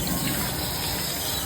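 Water running steadily from a knee-operated tap at a zoo, a continuous close splashing gush without pause.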